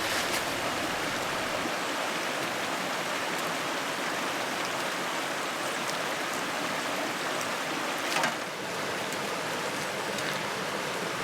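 A creek flows in a steady broadband rush of moving water over rocks, continuous and fairly close, with no voices and one brief splash-like bump partway through.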